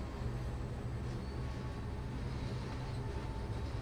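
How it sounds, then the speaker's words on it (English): A Class 66 diesel locomotive in the Train Sim World game runs with a steady low, rumbling drone, continuous and fairly quiet throughout. "This train is a lot louder than some of the electric trains we've been in lately."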